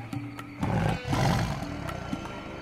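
A tiger in the video game Lost Horizon lets out a loud, deep roar in two surging bursts, set against a low musical drone with no talking.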